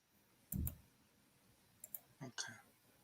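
A few sharp computer mouse clicks during a stock-chart session, one louder click followed by several lighter, spaced clicks close to the microphone, with a faint voice murmuring in the background.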